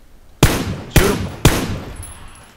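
Three sharp, loud gunshots from the battle royale game PUBG crack out at roughly half-second intervals, each followed by a short decaying tail, with no other sound between them.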